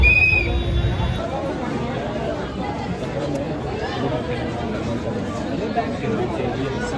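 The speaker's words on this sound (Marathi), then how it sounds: "म्हणजे नॉर्मल गर्दी आहे जशी आपल्या मंदिरात राहते तशी" Steady crowd chatter fills the Dagdusheth Ganpati temple in Pune, a continuous babble of many voices close around, with no single voice standing out.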